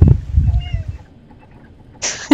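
A cat gives a short, drawn-out meow up close, followed by a pause and then a brief breathy hiss-like burst.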